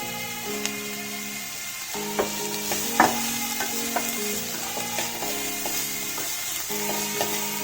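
Capsicum fries in a pan with other ingredients, a steady sizzle under a background hum, broken by occasional scrapes and clinks of stirring.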